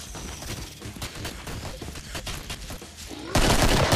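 Rapid gunfire from zombie-fighting weapons in Killing Floor, dense bursts of shots cracking steadily throughout and swelling into a louder, sustained volley near the end.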